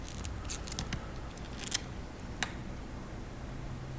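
Kitchen scissors snip at food during a work-trip meal in Alaska, a few sharp close clicks and cuts over a steady background hum.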